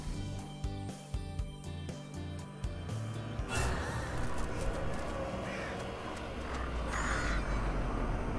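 Crows caw in the video game Little Misfortune, a run of harsh calls rising over a dense, busy game soundtrack and ambience that grows louder partway through.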